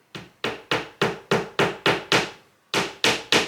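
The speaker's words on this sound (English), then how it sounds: "So I'm just gonna hammer one nail in" Hammer striking a nail into an indoor wall to hang a shelf, eleven sharp ringing blows at a steady rhythm with one brief pause before the last three, close and loud with no talk.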